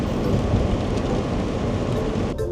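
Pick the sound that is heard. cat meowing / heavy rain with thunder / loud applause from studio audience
heavy rain with thunder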